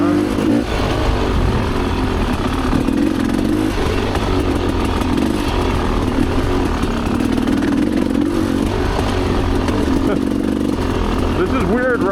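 A Rieju Ranger motorcycle rides a fresh, wet sand single-track trail, its engine droning steadily and loudly up close throughout, mixed with wind and rattling.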